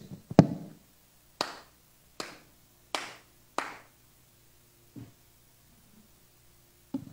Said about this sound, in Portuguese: na hora de aplaudir a gente faz assim, ó